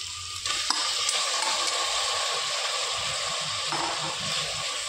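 Mutton frying with tomato in a pan, stirred now and then: a loud, continuous close-up sizzle with occasional scraping strokes.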